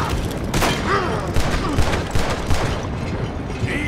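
Repeated gunshots ring out in a Red Dead Redemption 2 shootout, a steady run of loud cracks and booms over a busy game soundscape, with a voice talking in between.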